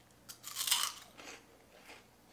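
Crisp crunching of cinnamon plant-based churro puffs being bitten and chewed close to the mic, one loud crackly bite followed by a few fainter chews, alone in a quiet room.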